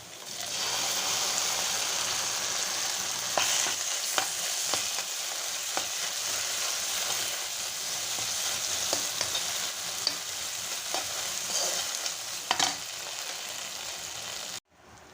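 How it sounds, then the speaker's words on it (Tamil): Ground masala paste sautéing in a pan for a fish dish gives a steady, fairly faint frying sizzle with occasional clicks and scrapes of stirring. Near the end it cuts off abruptly. "இந்த அரைச்சதெல்லாம் இதில் போட்டு நல்லா வதங்கிடுச்சு"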